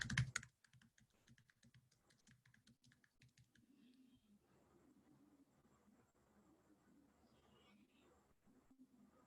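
Sign-in details are typed on a computer keyboard as a quick run of close, distinct key clicks, which thin to sparse, quiet taps over soft room noise.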